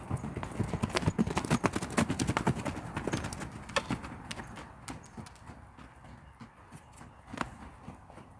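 Horse hooves clip-clop in a steady walking rhythm close by, fading slightly toward the end, with faint voices in the background.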